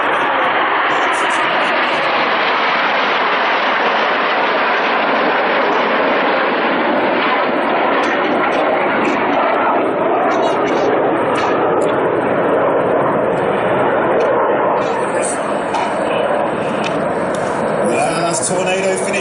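Aerobatic display jets flying in formation at the New York Air Show at Stewart International Airport, a loud continuous roar that fills the whole stretch without letting up, with a commentator talking over it.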